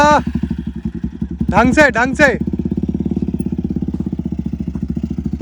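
A motorcycle engine idles with steady rapid pulsing during wheelie practice, near and loud, while someone shouts instructions over it.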